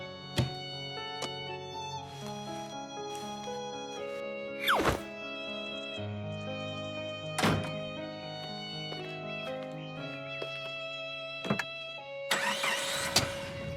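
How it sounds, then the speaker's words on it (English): A cartoon car starts up with a couple of clunky engine turns and thunks, then hums away under light background music, with sharp knocks punctuating the scene. "Mr. Fox set off in his car with Po beside him."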